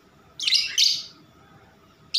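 A caged myna (jalak) gives two sharp, loud chirping bursts close up, then a short pause before another brief call begins, with a quiet background.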